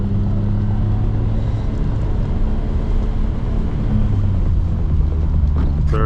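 A race car on Fuji Speedway in Japan, heard from the cabin as a loud, steady engine drone and road rumble with rising pitch under acceleration and no voices.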